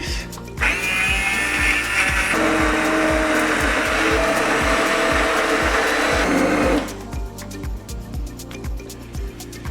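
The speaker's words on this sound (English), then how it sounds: "we're gonna use a stick blender" Stick blender puréeing a pot of lobster bisque, a loud steady motor whir lasting several seconds before switching off, with a rhythmic pulsing hum running throughout and no talking.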